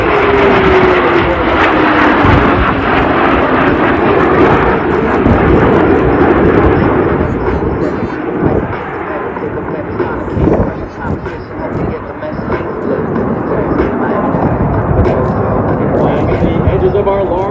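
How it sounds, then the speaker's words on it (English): Loud roaring jet engines as five Snowbirds aircraft of the Royal Canadian Air Force sweep past in a line-abreast formation at the Gatineau-Ottawa airshow, a sustained powerful rumble with a falling pitch sweep as they pass, under an announcer's voice. "They come for a 5-plane line abreast pass."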